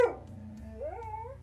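A dog gives a short yelp, then drawn-out rising whines and whimpers, fairly close and at moderate loudness, with a low background hum underneath.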